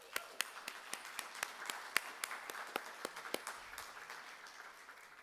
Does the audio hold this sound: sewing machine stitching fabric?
no